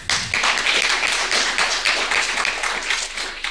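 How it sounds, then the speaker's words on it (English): An event audience claps for Dr. Jack Cruz, a full, steady burst of many hands lasting several seconds, loud and continuous, fading slightly at the end. "Give him a clap."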